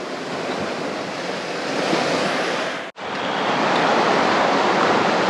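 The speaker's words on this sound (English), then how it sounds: "There's lots of these sort of squalls coming through." Loud, continuous rushing squall wind and breaking ocean waves at sea on a Pacific crossing, with a momentary dropout partway through before the roar resumes.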